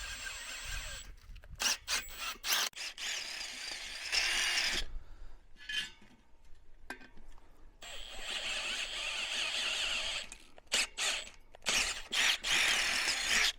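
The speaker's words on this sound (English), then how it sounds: "We're going to drill out all 9 holes with the 8 millimeter" A drill with an 8 mm bit whirs in bursts, boring holes in a bicycle rim, biting into metal with grinding, scraping rasps and short pauses between runs, close and fairly loud.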